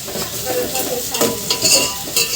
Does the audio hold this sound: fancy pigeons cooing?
no